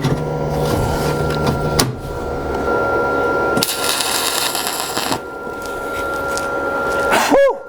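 Stick welding on steel window bars: a steady crackling, sizzling arc runs close and continuous through the clip, broken by brief pauses and a sharp burst of noise near the middle, with a short rising tone at the end.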